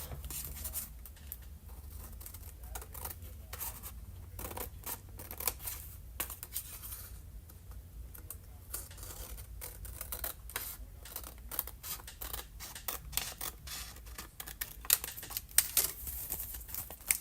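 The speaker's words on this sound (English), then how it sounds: "Now I'm going to trim this off." Scissors trimming paper during a crafting session, a quiet run of scattered small snips and rustles spread across the stretch with no talking.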